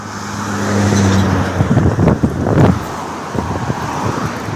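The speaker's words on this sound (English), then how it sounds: "Here comes a big truck." A big truck passes close by on a road outside, a loud, swelling rumble of engine and tyres with wind buffeting the microphone, rising to a peak and then easing off.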